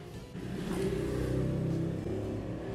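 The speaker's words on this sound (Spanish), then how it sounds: "Ay, la moto pasa cuando no tiene que pasar." A motorcycle passes by outside, its engine a steady mid-pitched drone that swells and holds close for a few seconds, with no talking.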